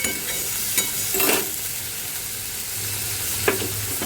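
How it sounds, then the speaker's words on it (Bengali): Spices and a bay leaf frying in hot oil in a village kitchen after fish has been fried, giving a continuous close sizzle with a few sharp spoon clinks and stirring scrapes. "এবার আমি তেলের মধ্যে ওই মশলাটা দিয়ে দিলাম, একটা তেজপাতা দিয়ে"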